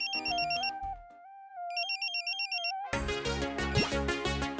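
Telephone ringtone ringing, a bright electronic melody repeating in short phrases, then a fuller, louder musical burst toward the end.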